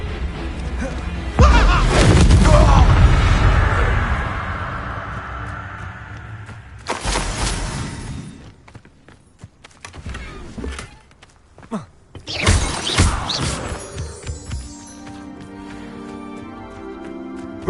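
Spell blasts from the Confringo fire curse in Hogwarts Legacy, several loud booming crashes and thuds in separate bursts, the first heavy and long, later ones shorter, amid game ambience.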